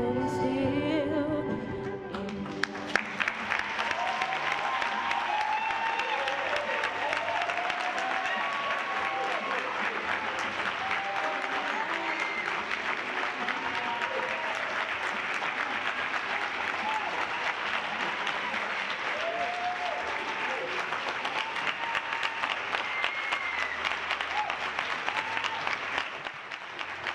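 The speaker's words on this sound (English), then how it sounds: "Can we give them another round of applause?" Audience applause after a performance, a long sustained round of many hands clapping at steady volume for nearly half a minute, with music fading out at the start.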